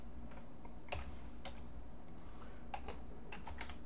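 Keys tapped on a computer keyboard while entering a short web search, a few soft, scattered clicks close by over a low steady hum, with no talking.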